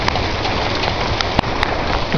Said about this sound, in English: now it's just raining like a bitch